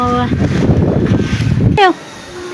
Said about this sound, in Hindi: गाइस इतनी तेज़ माशाल्लाह से हवा चल रही है ना, इतना मज़ा आ रहा है ना छत पर बैठकर